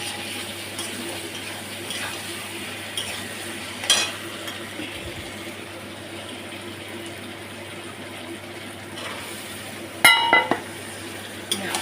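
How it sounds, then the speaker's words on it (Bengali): Spices stir-fry in a pan in a home kitchen with a steady, low sizzle underneath, broken by two sharp clinks of a spoon against the pan. "মশলা দিয়ে দিচ্ছি, ভালো করে কষিয়ে নেবো।"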